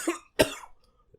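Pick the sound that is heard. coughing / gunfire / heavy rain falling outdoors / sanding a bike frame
coughing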